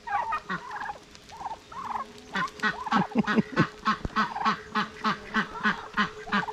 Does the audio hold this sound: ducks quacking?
yes